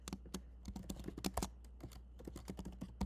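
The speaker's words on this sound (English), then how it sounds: "they're going to type in the email" Rapid, irregular keystrokes clatter on a computer keyboard as an email address is typed, a close, crisp run of clicks with brief pauses and no talking.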